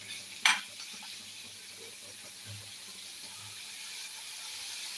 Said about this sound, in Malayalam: ബാക്കി എല്ലാം കൂടെ നന്നായിട്ടൊന്ന് ഇളക്കി കൊടുക്കാം